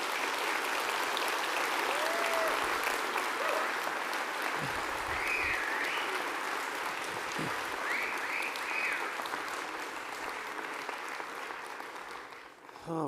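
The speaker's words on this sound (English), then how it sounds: "Go ahead, give them a round of applause," Sustained audience applause for the candidates at the 2022 UCP leadership debate in Edmonton, a dense, steady wash of clapping from a large hall crowd that holds throughout and tapers slightly near the end.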